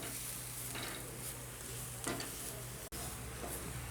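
Turmeric, red chilli, coriander and amchur powders roast in a pan on high flame for pyaz kachori filling, sizzling steadily nearby, with a couple of stirring scrapes and a brief dropout.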